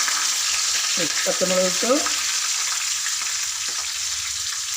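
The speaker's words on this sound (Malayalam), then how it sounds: "കരിയാപ്പില ഇട്ടു, ഉലുവയും കടുകും ഇട്ടു" Curry leaves, fenugreek and mustard seeds sizzle in hot coconut oil, a loud, steady, close hiss that runs throughout, with a brief spoken word in the middle.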